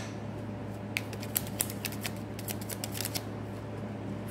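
Tarot cards riffled and shuffled by hand at a table, a run of soft crisp flicks and slaps starting about a second in and fading out, over a steady low electrical hum with no talking.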